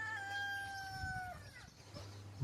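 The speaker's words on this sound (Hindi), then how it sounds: "There is a fight of cocks." A rooster on a village farm crows once in a single drawn-out call, fairly faint and alone, with the other birds quiet around it.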